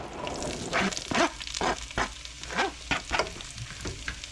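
Ground beef with peppers and onions fries in bacon grease, a busy crackling sizzle broken by repeated scraping and mashing strokes of a utensil, close and fairly loud throughout.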